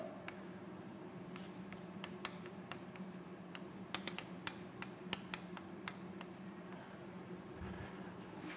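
Chalk or marker scratches and taps across a board as a polynomial is written out during a mathematics lecture, giving faint, scattered strokes and clicks in a quiet room.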